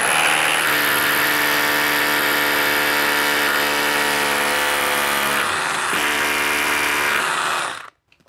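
A power drill runs steadily for about seven seconds while drilling holes into a wall batten, with a sustained high motor whine that dips briefly near the end before cutting off into silence. No one speaks.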